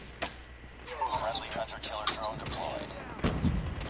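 Call of Duty Mobile combat bursts with a sharp blast and scattered gunshots, several loud cracks spaced across the moment, with faint voices in the background.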